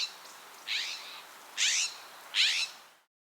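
A scrub jay gives three harsh, raspy call notes spaced about a second apart, fairly close, against quiet outdoor background noise.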